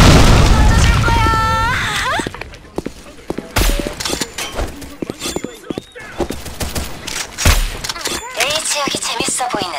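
Grenade blasts and gunfire in the Sudden Attack online shooter, with repeated booming bursts and rapid pops over game effects while players talk.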